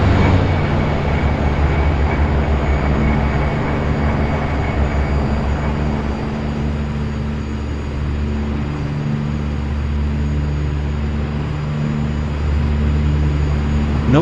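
An OV-10 Bronco taxiing in the DCS flight simulator: a loud, steady turboprop drone with a constant low hum and a faint high whine, unbroken for the whole stretch and with no voices.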